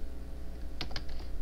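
A few quick keyboard clicks, close and distinct, over a steady low electrical hum.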